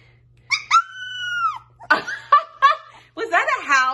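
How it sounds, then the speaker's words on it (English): A three-week-old puppy lets out a thin, wavering howl at close range, followed by people laughing and talking over further small squeaky vocalizations. "I think I literally just heard a howl."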